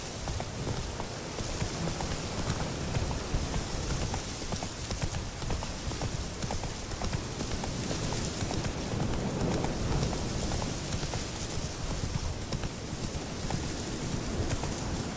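Roach the horse gallops in Witcher 3, a fast, steady clip-clop of hooves under a dense rain-like wash of ambient noise, continuous and close, with no talking.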